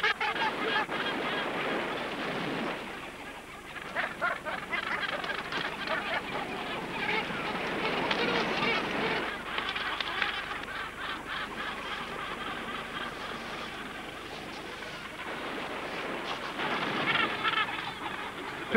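Gannets calling at a crowded colony, a dense continuous chorus of harsh honking cries, loud and close, swelling and easing in waves with no talk over it.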